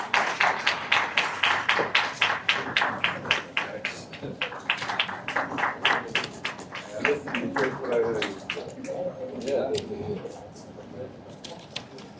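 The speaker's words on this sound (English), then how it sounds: "Ladies and gentlemen, give a big round of applause." Audience at an award ceremony of a national electrochemical science symposium gives a round of applause, a run of sharp separate claps that thins out partway, with voices talking underneath toward the end.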